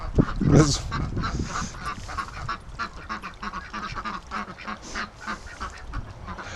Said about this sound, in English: The ducks are sneaking up behind him.